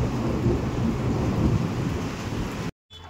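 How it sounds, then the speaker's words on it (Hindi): Heavy rain pours outside with a deep rumble of thunder, a loud continuous wash that cuts off abruptly near the end. "बाहर आने लग गई है बारिश"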